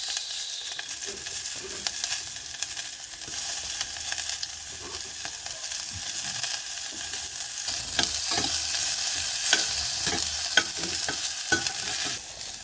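Onions sizzle in a hot pan for malunggay soup while a utensil stirs them, producing a steady close crackle broken by scraping strokes that grow busier toward the end.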